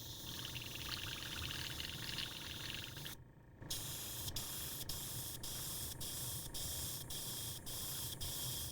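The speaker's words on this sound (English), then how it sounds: "Blow out the paint that is in the front of the nozzle, just a little bit of it." Airbrush blowing paint out of its nozzle gives a steady loud hiss that cuts out briefly, then resumes with a regular series of short pulses or clicks in the stream.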